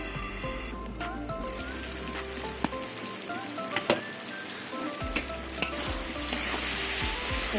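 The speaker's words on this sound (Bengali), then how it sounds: "এটা ঢেকে ঢেকে মশলাটা কষিয়ে নেবো আলুর সাথে" Spices sautéed with potatoes in a pan after a splash of water, for a vegetarian fig dish, giving a constant bubbling sizzle with scattered sharp pops and spoon clicks, no speech.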